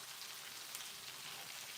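Liver frying in a pan, a faint, steady crackling sizzle with fine spattering and no voices.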